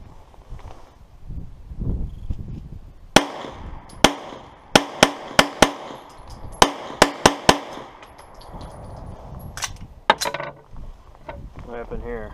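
A Hudson H9 pistol fires hand-loaded rounds outdoors, a string of sharp, loud close shots in irregular succession with echoing tails, over wind noise and some quiet talking.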